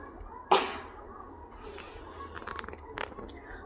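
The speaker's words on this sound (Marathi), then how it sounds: "माझ्या मुलीला सर्दी झाली आहे ना ती छिंकते" One sharp, sudden sneeze bursts out near the start. Quieter kitchen-like noises and faint clicks follow.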